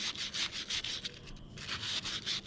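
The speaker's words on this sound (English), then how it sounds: "So the cut ends, you definitely want to put a little bit of sandpaper" Sandpaper rubbing briskly over the cut ends of a water line pipe to clear burrs, a steady close back-and-forth scratching with a short pause midway.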